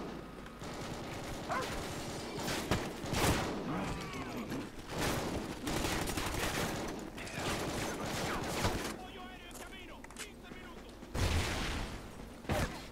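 Call of Duty: Ghosts battlefield gunfire, scattered shots and bursts at moderate distance mixed with mechanical game noise, with someone speaking German over it at times.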